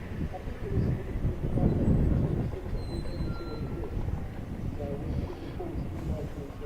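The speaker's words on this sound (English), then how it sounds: "There's a lot of construction work of new buildings going on at Silverstone at the moment." Heavy plant and construction machinery at work on new buildings at the Silverstone circuit, heard as a continuous low, rumbling drone that swells and eases in the background.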